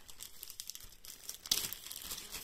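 A taped-up gift package is opened with crisp crinkling and tearing of wrapping in short close bursts, one sharper rip in the middle, quiet with no talking.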